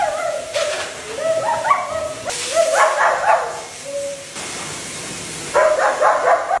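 A husky mix whines, yips and howls in rising, wavering cries during grooming over a constant hiss of blowing air, fairly close.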